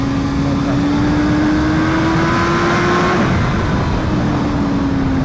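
A loud BMW HP4 Race motorcycle engine drones steadily with its pitch slowly climbing as it accelerates on a canyon ride, heavy wind rush throughout.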